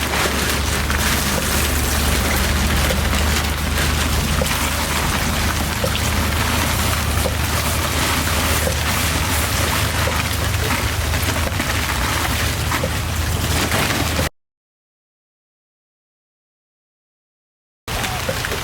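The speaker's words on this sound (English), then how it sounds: "here it is, putting the water inside the pond" A garden hose pours water steadily into a small tarp-lined DIY backyard pond, a continuous close rushing splash lasting many seconds before cutting out briefly and resuming.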